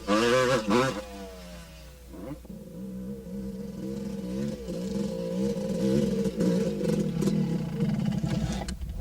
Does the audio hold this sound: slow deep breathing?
no